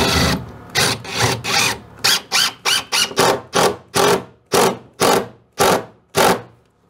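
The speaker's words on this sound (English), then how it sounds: "I'm taking some Torx screws and right over the stud in the chinking gap, I'm putting a screw in there" Torx screws driven with a power driver into log face interior siding over a stud, heard as about a dozen short whirring bursts in an uneven rhythm, loud and close, with no talk.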